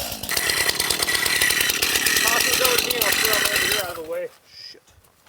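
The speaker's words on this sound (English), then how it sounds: "I pulled out my Stihl chainsaw and tried to get it fired up." A Stihl chainsaw on a remote Alaskan wilderness trail in winter runs with a loud, rapid engine rattle and revs before cutting out abruptly, leaving near silence with a brief faint sound afterward.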